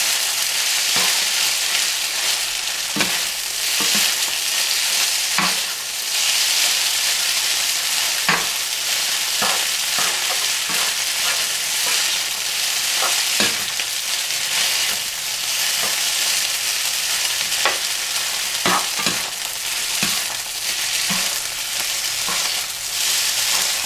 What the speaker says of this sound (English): So the frying continues while it's off.